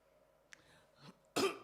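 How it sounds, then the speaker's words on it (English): A person gives a throat-clearing noise and then a short, sharp cough near the end, close and alone against a quiet indoor background. "I will be easily recognizable by the fact I will be constantly coughing."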